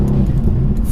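Tuned 674-horsepower Mercedes-AMG C63 S with a hot-V twin-turbo engine accelerating hard, a loud, steady low engine roar filling the whole moment without a break.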